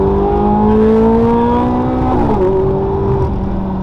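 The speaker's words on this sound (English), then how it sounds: "I don't think the engine sounds as good as this." A car engine revs loudly and steadily, its pitch rising then dropping sharply partway through before settling into a throaty hum.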